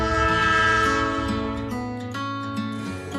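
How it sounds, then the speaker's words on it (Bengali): An express train pulls away with a loud, sustained multi-tone horn blaring over a heavy rumble that drops lower partway through, with sharp clanks near the end. "ট্রেন ছেড়ে দিল।"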